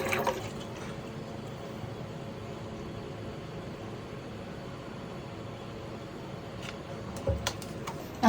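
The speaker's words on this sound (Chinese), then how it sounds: "你就是先装水。" Water fills a bottle as the first step in making soap water, a soft, steady trickle heard alone at low level, with a few faint clicks near the end.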